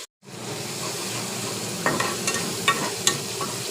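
Small pond shrimp fry in a hot pan with a steady, close sizzle, broken by a few sharp scraping clicks as they are stirred.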